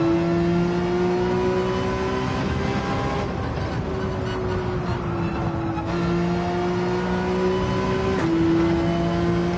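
A race car engine in the video game Gran Turismo 7 drones loudly and steadily at high revs, its pitch dropping briefly at a few gear shifts, with no voices.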